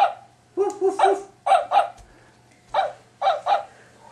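A puppy barks in short, bright yips that come in quick pairs and small bursts, spaced by brief pauses. The barks are close and clear over a faint low hum.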